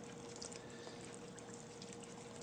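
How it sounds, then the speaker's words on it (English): Liquid pours steadily into a container while mixing a urea test solution with about 16 ounces of water, a continuous close trickle that runs unbroken for a couple of seconds with no talking over it. "we're going to pour that in here."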